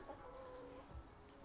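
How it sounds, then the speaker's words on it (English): Backyard chickens cluck softly and intermittently on a small home farm, faint and distant against a steady outdoor background, with no talk over them. "we got all the chickens out and little Sunny"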